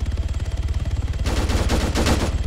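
An MK200 machine gun fires in a video game, one sustained automatic burst of rapid, evenly spaced shots that grows louder and harsher halfway through.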